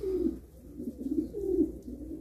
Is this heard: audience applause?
no